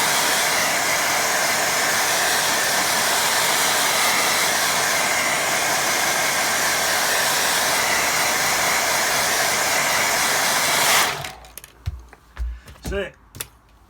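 A hair dryer blows steadily and loudly close by for about eleven seconds as it dries a watercolour painting, then cuts off, leaving a few light knocks and handling sounds.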